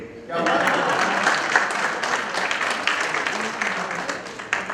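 An audience at a CODFICON 2022 talk bursts into applause after a brief lead-in, dense steady clapping filling the room and fading slightly toward the end, with some voices mixed in.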